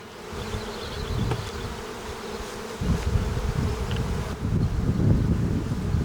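Honey bees buzzing steadily and densely at close range at an opened Ukrainian-Alpine hive in spring, a continuous drone that swells louder midway with some wind noise.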